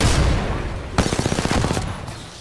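Rapid bursts of automatic gunfire in an Apex Legends match, a dense fusillade of close, loud shots firing in a fast rhythm with a brief gap before a sustained volley.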